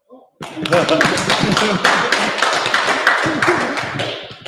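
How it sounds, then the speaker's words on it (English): Audience applause at a Kapiti Coast District Council candidates' event: dense, sustained clapping that starts abruptly and carries on for about four seconds. "Has the clapping stopped?"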